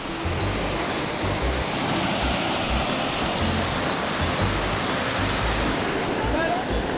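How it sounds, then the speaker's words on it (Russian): The Pseguash waterfall near Gelendzhik gives off a steady, full-bodied rush of falling water that fills the space continuously, close and fairly loud, with no voices. "Мы добрались до первого водопада."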